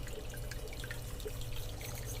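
Water trickles and splashes softly through a carpet cleaning tool as it runs over carpet, a quiet continuous wet rushing with small drips over a low mechanical hum.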